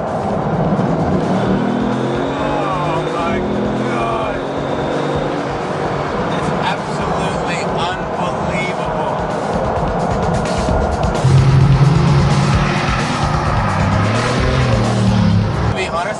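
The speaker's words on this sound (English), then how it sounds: "I'm just going to do a slight burst of acceleration here just to show you how fast this thing can go." Bugatti Veyron 16.4 engine pulling under a hard burst of acceleration, a steady loud drone with rising pitch sweeps and a surge near the end, heard from inside the car over continuous road noise.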